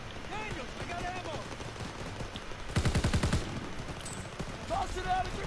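Rapid burst of automatic gunfire from a PPSh submachine gun in a World War 2 video game, a dense rattling volley of about half a second amid continuous battle noise and shouting voices.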